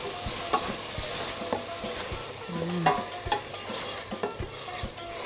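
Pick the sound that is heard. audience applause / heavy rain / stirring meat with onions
stirring meat with onions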